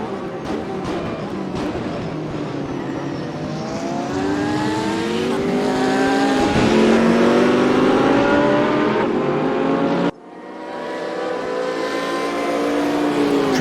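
GT3 race cars, Corvette Z06s among them, race at Suzuka. Loud engines climb in pitch through the gears and howl past close by, then cut off abruptly before a fresh engine note rises again.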